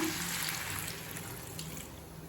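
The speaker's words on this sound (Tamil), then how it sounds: "1 கப் தண்ணி சேர்த்துக்கலாம்." Water poured from a cup into a pot of cauliflower and pea kurma on the stove, a steady, close splashing and trickling that continues without a break for a couple of seconds, with no talk over it.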